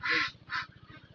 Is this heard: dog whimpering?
no